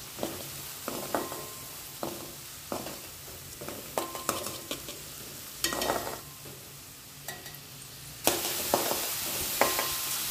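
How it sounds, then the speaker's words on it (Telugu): Onions and green chillies fry with prawns in a pan, a soft continuous sizzle broken by repeated spoon scrapes and taps while the mixture is stirred, with a louder hiss near the end. "ఈ టైంలో కట్ చేసి పెట్టుకున్న ఉల్లిపాయలు, పచ్చిమిరకాయలు కూడా వేసి బాగా వేయించుకోవాలి."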